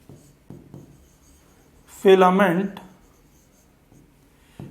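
Short, scratchy strokes of writing on a board during a cell biology lecture come close and quiet in a few separate bursts, with a brief spoken phrase in the middle.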